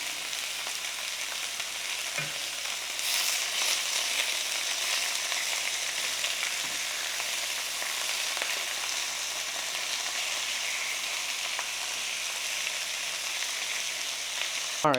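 Food sears in a hot pan with a constant, dense sizzle and crackle that runs throughout, loud and close, with occasional small pops and utensil taps.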